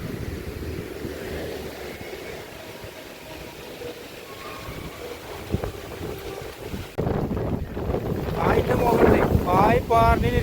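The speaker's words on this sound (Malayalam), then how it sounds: "കൊടുങ്കാറ്റടിക്കുന്നു, പായി നിൽക്കണില്ല" Strong wind buffets around a parked truck, roaring and gusting steadily against the microphone with rattling flaps of a loose mat, growing louder and harsher in the last few seconds; a voice speaks briefly partway through.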